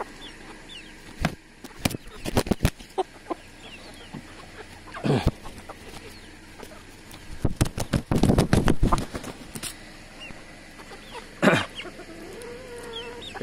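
Three-month-old Blue Cuckoo Marans chickens clucking close by in scattered bursts, with louder flurries of calls and some quieter gaps between.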